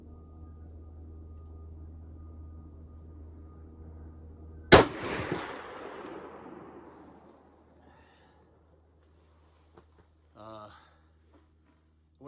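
A single loud rifle shot cracks out from a moose rifle chambered near 30-06 during test firing, its boom decaying over several seconds, with faint shuffling and a brief voice afterward.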